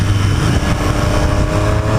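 Triumph Street Triple 765 RS motorcycle engine at steady loud revs in track mode, with a strong induction roar that stays close and continuous throughout.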